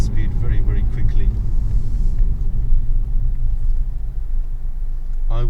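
A Toyota Avensis 2.0 VVTi pulls hard under acceleration, its engine a steady low rumble and road drone filling the cabin without a break, loud and close throughout.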